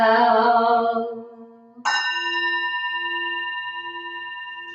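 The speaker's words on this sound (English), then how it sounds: "for the sound of the bell." A meditation bell at a Sunday service is struck twice: a first tone fades away, then a second bright strike rings out and sustains with a slow, pulsing shimmer as it decays.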